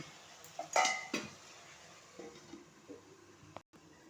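A metal lid clatters onto a pot of spiced chicken curry, a sharp clink of cookware followed by quieter scrapes and knocks, close and alone.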